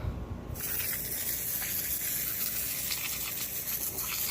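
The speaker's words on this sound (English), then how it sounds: "Let's see what the hose does." A garden hose sprays a steady, loud rushing stream over a car transmission coated in wrinkle paint, washing it down without a break.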